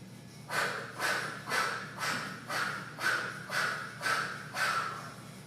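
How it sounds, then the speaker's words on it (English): Kapalabhati breathing in a hot yoga class, a series of eight forceful, rhythmic exhales about every half second, close and breathy, with no talk. "The very last thing that we do is called Kapalabhati breathing"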